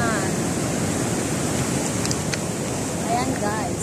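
Sea waves at Salalah, Oman wash in as a steady broadband roar mixed with wind buffeting the microphone, continuous and fairly loud throughout.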